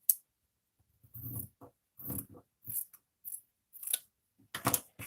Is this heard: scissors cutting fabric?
yes